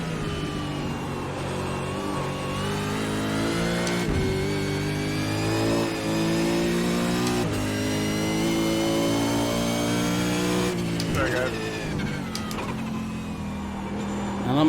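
Supercars race car in iRacing at Bathurst, a sustained loud engine whine rising and falling through gear changes, steady and close throughout, with a voice talking over it.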